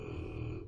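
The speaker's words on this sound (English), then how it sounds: "That is my dog snoring, by the way." A dog snoring indoors, a single low rumbling breath lasting under a second, close and moderately loud.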